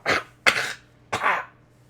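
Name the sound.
cough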